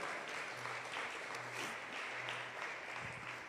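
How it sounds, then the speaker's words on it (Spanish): Faint congregation applause at an evening church service, a soft, even patter of clapping with a low hum underneath, steady for a few seconds and heard from a distance. "Dele fuerte ese aplauso si es para Él."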